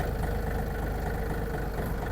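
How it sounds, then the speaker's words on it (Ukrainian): Yanmar US-324 mini tractor engine running at a steady idle just after starting, a continuous low, even rumble with no talk over it. "Гарно, прекрасно, тракторець завівся."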